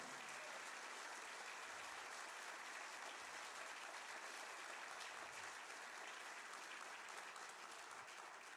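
A church congregation applauds steadily during a sermon, a dense, continuous wash of clapping that fills the whole stretch at a fairly even level with no speech on top.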